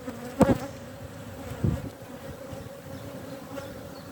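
Honey bees, drones among them, buzz steadily at a hive in Ireland in May, a continuous close drone with a couple of louder passes as individual bees fly near.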